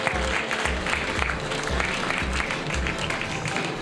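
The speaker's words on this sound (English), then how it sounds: "let's hear a big applause for our friend from Japan." An audience applauds at a livestreamed event, a steady dense clapping that stays loud throughout the short stretch, with faint voices mixed in.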